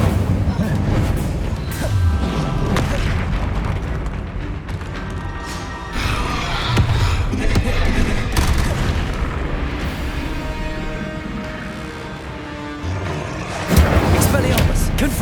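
Incendio fire spell cast in Hogwarts Legacy, a loud burst of booming, crackling magic within continuous dense game combat noise and music, with repeated impacts throughout.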